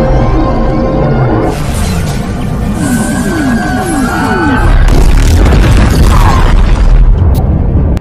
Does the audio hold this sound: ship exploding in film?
yes